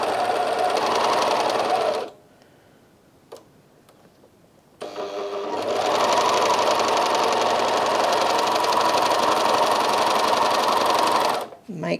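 A Bernina 1100DA serger sewing a gathered rolled hem whirs loud and close in a fast steady drone, stops for about three seconds with a faint click, then runs again at length before halting.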